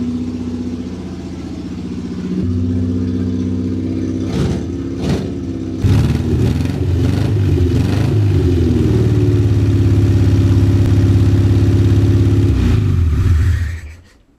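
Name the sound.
abandoned car engine firing up and revving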